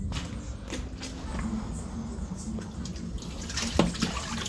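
Water is poured from a dipper for washing, a splashing, trickling flow with small drips and creaks over a steady background.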